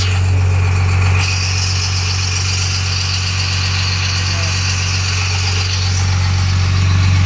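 A 2005 Ford F-350 with a Cummins diesel idles through its muffler, a steady low rumble with a constant hum and faint higher engine noise, close and continuous throughout.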